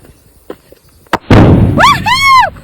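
An air-filled package is popped indoors: a sharp loud bang, followed by a burst of rustling plastic and then a child's high excited squeals, with softer taps before the pop.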